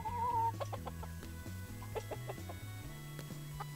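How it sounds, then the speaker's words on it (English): Chickens in the video game Dinkum cluck in short, repeated bursts, close and clear over a steady low musical drone, with no talking. "Hey chicken."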